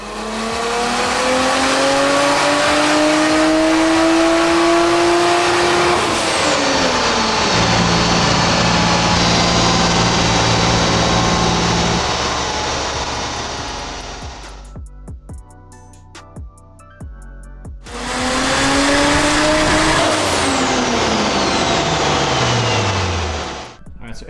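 A turbocharged 1JZ engine in an MK3 Supra running E85 screams through a loud, rising full-throttle pull, drops into a quieter lull, then roars into a second climbing pull.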